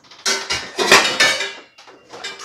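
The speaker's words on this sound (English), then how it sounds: "Let me get a little pot." A small pot being taken out and handled in a kitchen, with a cluster of close metallic clanks and clatters, several ringing hits, then a brief pause and a few softer knocks.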